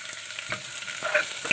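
Green chilies and onion fry and sizzle in a pan, stirred with brief scraping strokes over a continuous close hiss.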